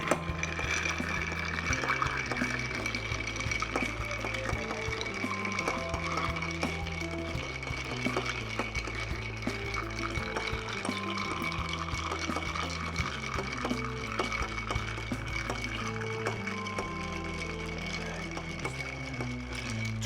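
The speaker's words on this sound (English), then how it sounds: "Grab your bar spoon and we're gonna stir for 20 seconds as always." Ice is stirred with a bar spoon in a cocktail mixing glass while a Sazerac is prepared, a steady soft clinking and swirling that runs continuously for about twenty seconds with low background music underneath.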